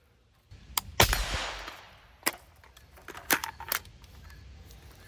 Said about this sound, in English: if we bring the charger handle back and send it back forward